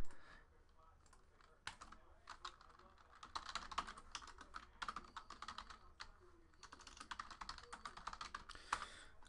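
Fast typing on a computer keyboard, heard up close but quietly as irregular runs of light key clicks with short pauses between bursts, and no one speaking.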